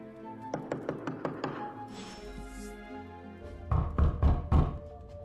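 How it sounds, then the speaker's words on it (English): Knocking on a door in a video game: a quick series of light raps, then a pause and a heavier, louder round of thumping knocks over a low background hum. "She about to knock."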